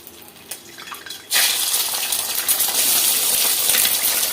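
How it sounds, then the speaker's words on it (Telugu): Four eggs cracked into hot oil in a pan for frying, with a sudden loud sizzle that erupts after a few soft taps and then crackles steadily and closely, with no talk over it. "ఒక 4 ఎగ్స్ అయితే వేస్తున్నానండి."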